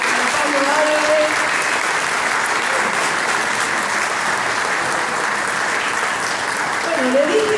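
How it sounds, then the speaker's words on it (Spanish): A large audience at an international ufology congress applauds continuously for a presenter, a dense, loud, steady clapping that fills the whole stretch, with a voice over a PA speaking at its start and near its end. "Fuerte el aplauso para Pablo Álvarez."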